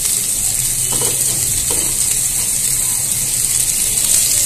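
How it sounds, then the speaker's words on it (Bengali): Chopped onions frying in hot oil in a wok for a Bengali sand goby fish curry, giving a steady, close, loud sizzle with a hissing wash and no talk. "তো আমি পেঁয়াজগুলো একটু ব্রাউন কালার করে ভেজে নেব।"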